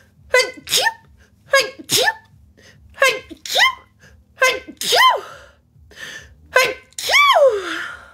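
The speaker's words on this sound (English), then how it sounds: "Oh no, I have to sneeze." A person sneezes about six times in quick succession, each a sharp close burst with an inhaled gasp before it, the later sneezes louder and more drawn out.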